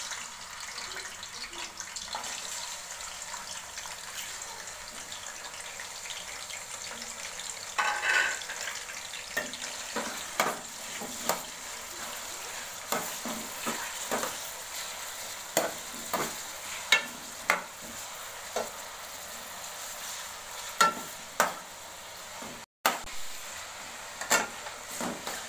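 Chicken pieces frying in hot oil for a green chicken karahi, a steady sizzle running throughout with repeated scraping knocks of a stirring spoon against the pan, fairly close and with no voices.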